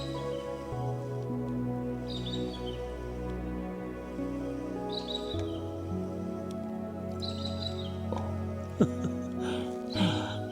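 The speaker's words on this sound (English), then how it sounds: "Listen to those birds." Birds call at dawn by shallow water while someone kayaks before sunrise, with several short chirping phrases repeating at intervals over a steady low background of tonal sound and water.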